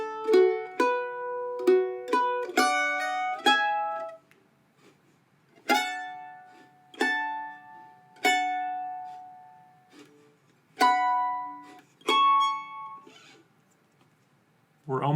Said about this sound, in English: So I'm going to play measure 9 through 12 really slow just so you can get an idea of what it sounds like.